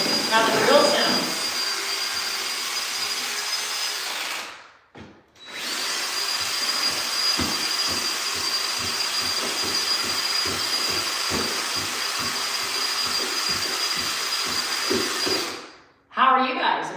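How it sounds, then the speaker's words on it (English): A power drill mixing thick mud texture compound runs as a long, steady whine with a rhythmic chugging underneath, stopping briefly twice; a voice talks faintly over it. "Maybe that's how we judge how the drill sounds."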